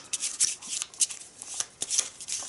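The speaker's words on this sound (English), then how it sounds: "And we're gonna give it a shuffle." A deck of unique item cards from the Arkham Horror board game being shuffled by hand, a close, crisp run of quick riffling flutters and soft slaps lasting a couple of seconds.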